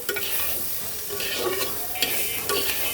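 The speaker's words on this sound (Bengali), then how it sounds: "আমার কিন্তু দু এক মিনিট খুব সুন্দর মতো এটাকে ভাজা ভাজা করা হয়ে গেছে" Kaikla fish masala frying in oil in a pan while being stirred, for a fish dopiaza with potato and tomato; steady close sizzle with repeated scraping stirs, no talk.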